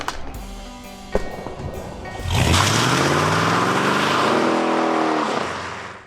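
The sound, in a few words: car driving during a ride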